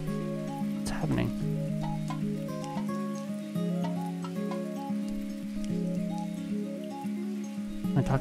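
Rain falls steadily in the video game Sumire, a soft continuous patter beneath sustained musical tones, with a brief sharper swish early on.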